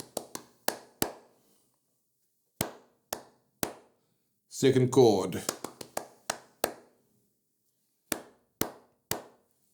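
Hands clap a syncopated rhythmic pattern, sharp close claps in irregular groups, with a short burst of speech in the middle.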